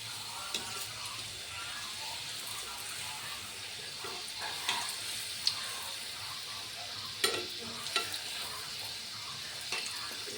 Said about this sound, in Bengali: তো এই যে তেল গরম হয়ে গেছে, লুচিগুলো দিয়ে দিয়েছি।